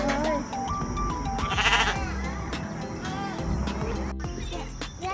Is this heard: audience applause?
no